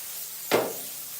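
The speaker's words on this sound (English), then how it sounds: "So what I do with this pan, I spray." A short burst of cooking spray onto a thick Costco baking pan, one quick hiss lasting a fraction of a second, close and clear against a quiet kitchen.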